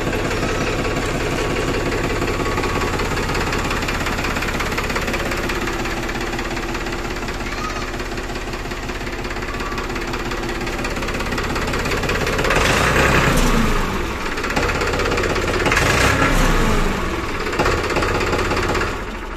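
A Farmtrac 45 Classic tractor with power steering, around 800 hours of use, idles up close with a loud, steady diesel knock, the engine rising briefly near the end before settling again.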